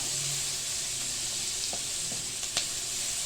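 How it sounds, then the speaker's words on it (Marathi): Onions and green chillies sauté in a pan with a continuous bright sizzle, broken by a few scraping stirs of a spoon, no voices. "आता हे चांगलं आपल्याला कांदा लाल होईपर्यंत आपल्याला परतवून घ्यायचं आहे याच्यामध्ये."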